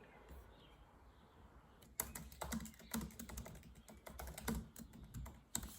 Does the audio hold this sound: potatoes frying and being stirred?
no